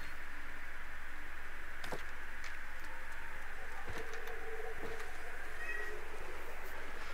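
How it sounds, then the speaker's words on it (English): A house cat meows several times over a steady background hum, with short drawn-out calls at moderate distance and a little faint clatter in between. "And my cat says hello as well."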